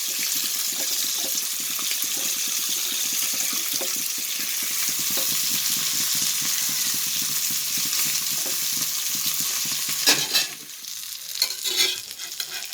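Chala sardines frying in plenty of oil give a loud, steady, close sizzle. Near the end, clattering marks the fish being turned in the pan, and no one speaks.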